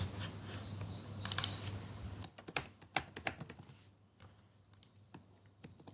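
Fast typing on a computer keyboard while writing program code, a steady run of close, crisp key clicks over a background hum, then spaced-out individual keystrokes and pauses.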